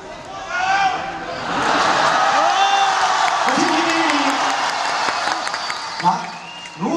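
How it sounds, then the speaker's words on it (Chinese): A stage-show audience breaks into clapping and cheering that swells and holds for several seconds, with whoops and voices rising over the applause before it tapers off. "来，如果支持台湾大哥的，掌声、欢呼声。"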